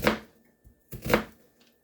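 A knife chops leftover onion on a cutting board in two close, distinct strikes with a faint tap between them, with no talking.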